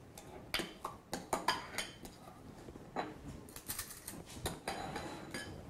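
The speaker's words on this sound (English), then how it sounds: "I'm using a scoop to get the frozen ice cream out, so it's in smaller pieces and it'll dissolve faster." A metal scoop scrapes and digs repeatedly into frozen ice cream, making a series of close, sharp clinks and scrapes in an irregular rhythm.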